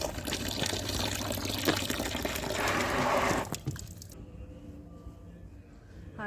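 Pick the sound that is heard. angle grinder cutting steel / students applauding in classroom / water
water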